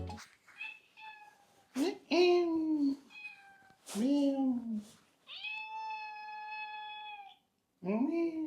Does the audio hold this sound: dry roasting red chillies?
no